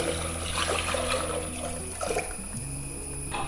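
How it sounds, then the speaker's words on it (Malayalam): Water pours and trickles steadily into a pot of raw rice, a continuous liquid splashing with a low hum in the background. "ഇനിതാ നമ്മളിതാ എടുത്തു വെച്ചിട്ടുള്ള വെള്ളം ഒഴിച്ചു കൊടുക്കാം"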